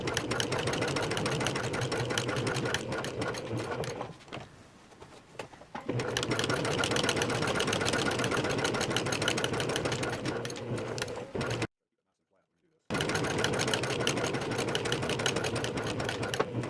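A sewing machine stitches a pants seam, locking the top and running back down the side; steady close mechanical whirring comes in sustained runs, with a short pause and a brief gap of silence.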